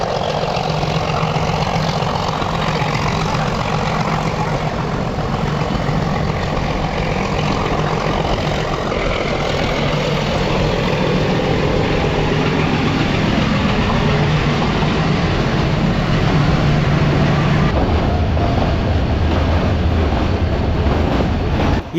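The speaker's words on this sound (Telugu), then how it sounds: "Narrow gauge train." The Ooty narrow-gauge toy train in the Nilgiri hills runs with a loud, continuous engine and rail rumble that holds steady throughout, with a faint low drone surfacing toward the end.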